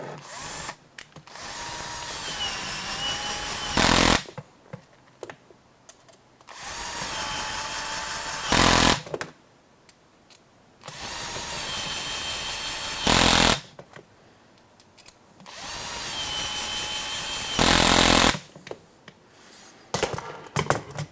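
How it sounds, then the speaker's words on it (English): Power driver runs in four bursts of a few seconds each, tightening four screws into the transmission of an HPI Baja 5SC SS RC car, with short pauses between them; close and loud, no talk. "we're going to put those 4 screws into the 4 holes that'll line up with the transmission"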